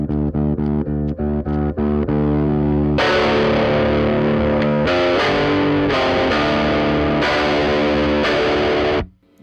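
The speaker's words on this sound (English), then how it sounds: "I think that scoop sound is gonna work better with this speaker and amplifier." Distorted electric guitar played through a Peavey Studio Pro 50 1x12 combo amp with scooped EQ, starting with chopped palm-muted chugs, then loud sustained crunchy chords and riffs that cut off at the end.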